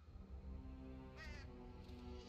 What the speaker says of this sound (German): Raben.